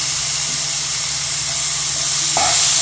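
Chopped tomato and pineapple sizzle in hot ghee, a steady bright hiss of frying that holds evenly throughout, close and loud, with a faint clink near the end.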